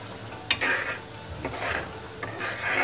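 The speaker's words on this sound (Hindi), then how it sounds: "नीचे से घुमाते हुए चलाएंगे जिससे चीनी जले नहीं।" Sweet chutney of sugar and jaggery being stirred in a pan, scraped up from the bottom, giving soft rubbing, rasping strokes with a few sharper scrapes, close and steady with no talk.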